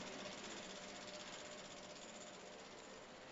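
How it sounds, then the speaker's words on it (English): A laboratory centrifuge spins at 1500 RPM during a formol-ether fecal concentration. Its steady, even mechanical whir and hum is faint and continuous for a few seconds, with no speech. "Centrifuge at 1500 RPM for 2 to 5 minutes."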